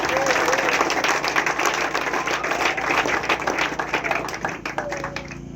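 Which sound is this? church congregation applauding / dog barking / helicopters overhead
church congregation applauding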